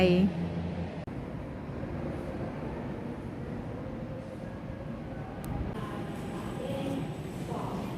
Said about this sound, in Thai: เสียงรถไฟ